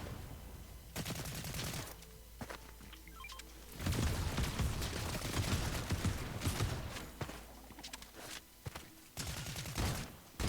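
Bursts of video game gunfire in Fortnite, several volleys of rapid shots with booms and footsteps between them, loud and close, separated by short quieter gaps.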